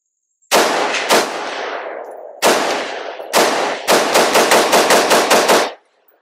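5.56 rifle fitted with a RED Brake muzzle brake fires sharp, loud shots: two single shots, another, then a rapid string of about nine in quick succession, each with a short ringing decay, no talking.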